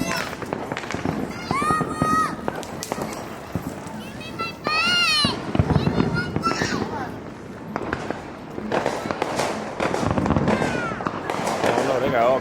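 Fourth of July fireworks in Allentown go off as repeated sharp bangs and crackles scattered through the scene, mixed under near, lively talk from several people.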